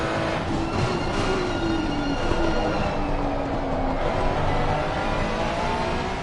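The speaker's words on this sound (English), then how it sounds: "Using the engine braking to get the car slowed down." A race car engine in a sim racing event at Kyalami runs continuously and loudly, holding a steady drone with shifting whines as it brakes on engine compression through corners, with no talk over it.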